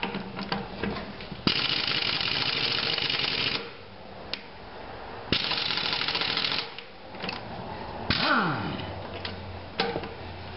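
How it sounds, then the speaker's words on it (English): An old pneumatic impact gun, running on compressor air in cold weather, zips 13/16 lug nuts off a vintage trailer wheel in several loud bursts of rapid rattling hammering, separated by short pauses. "Alright, the first step is to take the tire off. It's a 13/16 lug nut. Hopefully I got enough air in my compressor to zip these off."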